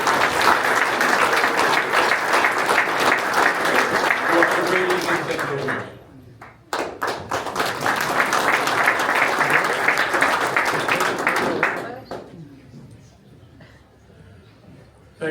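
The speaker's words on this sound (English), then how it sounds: "Let's give them a round of applause." Applause for law enforcement officers rises loud and dense from a crowd at a county night event in Annapolis, Maryland, breaks off briefly, then swells again before tapering, with someone briefly speaking over it.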